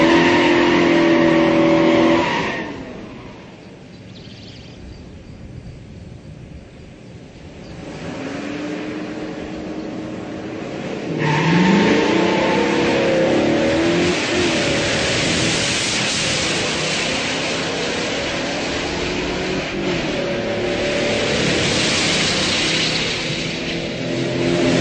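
A big block muscle car accelerates hard during a muscle car shootout, its engine note loud and sustained, dipping briefly before a strong rising roar that carries on to the end.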